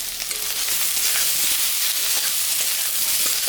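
Potatoes with salt and turmeric frying in a pan for a tangra fish curry, a steady close sizzle with faint stirring, no voices.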